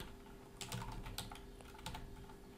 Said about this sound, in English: Click on this search box and type here